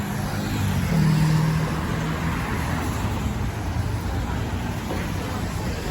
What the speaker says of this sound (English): And the traffic here is insane.